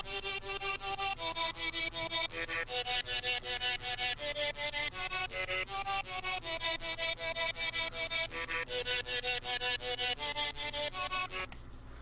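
Vocal-like synth lead from the future bass track Tightrope, a bright layered melody of repeated chopped notes in a steady pulse over a low sustained drone, loud and upfront with no voices.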